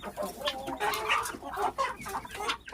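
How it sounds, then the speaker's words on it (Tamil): Chickens and guinea fowl clucking and squawking together close by inside a coop, a busy overlapping jumble of bird calls. "கிண்ணி கோழி கூட உள்ள வந்துருச்சு"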